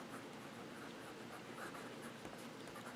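A broad-nib fountain pen writes on paper, a faint, continuous close scratching glide with small strokes throughout, no voices.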